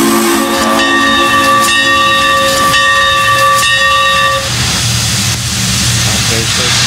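A steam whistle from a Frisco USRA Mikado locomotive in the Trainz game sounds loud and sustained with a bright multi-tone chord, cutting off briefly several times before a final long blast, then fades into rumbling hiss and mechanical noise.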